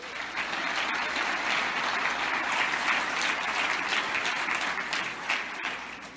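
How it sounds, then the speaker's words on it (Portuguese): Church congregation clapping during a sermon, a broad, continuous burst of applause from many hands that holds steady and fairly distant throughout, with no speech over it. "Então aplauda Jesus."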